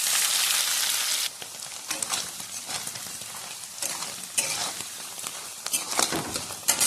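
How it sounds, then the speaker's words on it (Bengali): Paneer fries in a pan with a loud, hissing sizzle at first, then settles into softer crackling and spitting, broken by scattered pops and stirring. "পনির কিন্তু বাদামি কালারের হয়ে এসছে প্রায়, আর একটু ভেজে নামিয়ে নেব।"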